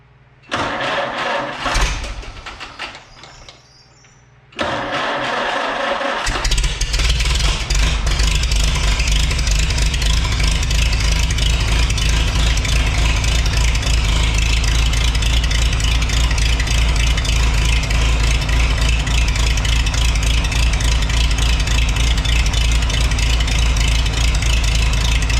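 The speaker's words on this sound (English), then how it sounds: "let's see if we can fire up now with this nicely new rebuilt carb" A Farmall H tractor with a freshly rebuilt carburetor cranks in uneven bursts, catches after a few seconds and settles into a loud, steady, close idle that runs on without talk.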